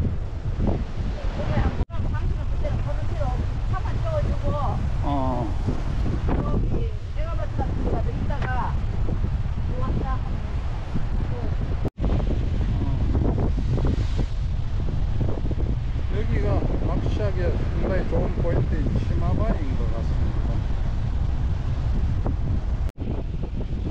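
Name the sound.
waves crashing and strong wind on the Igidae coastal walk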